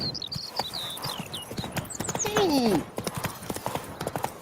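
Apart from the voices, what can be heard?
horse galloping in Witcher 3 video game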